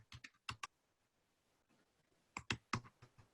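Close, quiet clicks of typing on a computer keyboard come in two short clusters separated by a pause, each keystroke crisp and distinct.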